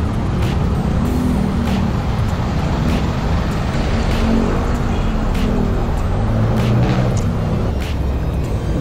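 Steady road traffic with cars rolling past in Dasmariñas, Cavite, a continuous loud rumble of engines and tyres with occasional brighter swishes of passing vehicles, heard from up close on a pedicab ride.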